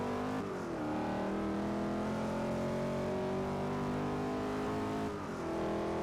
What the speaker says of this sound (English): Is a good Honda VTEC, specifically intake noise rather than the actual exhaust.